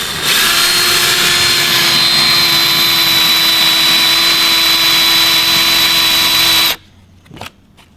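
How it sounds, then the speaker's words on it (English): A power drill runs steadily for almost seven seconds as it bores a hole for a camera plate on an E30 drift truck, then cuts off sharply, leaving quiet with a couple of small knocks. "Drill bit, drill."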